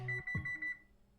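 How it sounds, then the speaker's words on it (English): A quick string of soft, high electronic oven timer beeps in a video game pulses rapidly for under a second, then fades into quiet. "The oven beeps."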